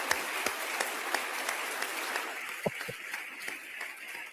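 Applause from a gallery audience in a state legislative chamber during a State of the State address, steady dense clapping that carries on at moderate level with a few sharper claps near the end.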